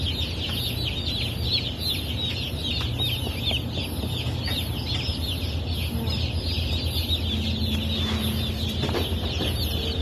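A crowd of chicks peeps constantly and shrilly while adult chickens cluck beneath, a dense, steady farmyard chorus heard up close, with no talk over it.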